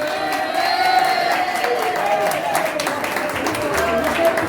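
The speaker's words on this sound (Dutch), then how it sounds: "deze mensen die ontvangen je nu al met een daverend applaus" A large audience applauding and cheering at a singer's performance in a hotel in Winterberg, dense continuous clapping with crowd noise and some voices mixed in.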